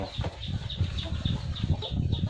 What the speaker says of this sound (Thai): ตรงนี้ก็จะเป็น สายพม่านะครับเป็นไก่ชนนะครับ เพาะพันไว้นะครับ